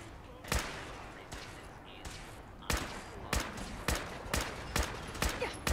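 A new 50-cal rifle in Fallout 4 firing in rapid bursts, a series of sharp, punchy shots spaced roughly evenly and growing quicker toward the end, loud and close over a low background.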